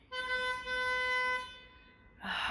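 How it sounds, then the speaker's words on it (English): A car horn near a pickup and drop-off spot gives one sustained honk of about a second and a half, clear and fairly close, then cuts off before a burst of other noise. "there's a car honking."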